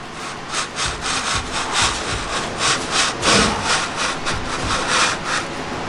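A hand saw with a changed blade cuts through wood in a woodworking shop, its steady rhythmic back-and-forth strokes close and loud, clearing wider shavings from the kerf, with no talking.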